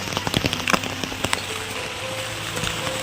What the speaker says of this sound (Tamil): மழை பயங்கரமா இருக்குது.